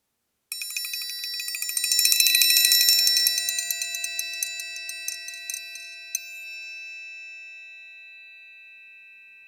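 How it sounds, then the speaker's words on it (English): A triangle struck as a transition accent, giving a bright shimmering roll that swells, then thins into scattered strikes and one final ping that rings out and fades alone. "here's an example of how you can use the triangle as a dynamic or"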